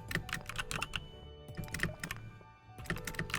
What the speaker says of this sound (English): Clickety clackety is because I'm using a different keyboard that is really loud.